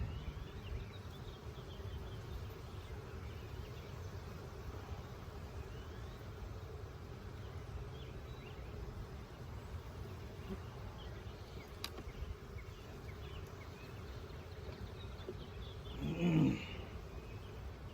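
Honey bees buzz steadily throughout an April hive inspection with full frames of brood, a dense, continuous drone close by, with a brief louder burst of handling noise near the end.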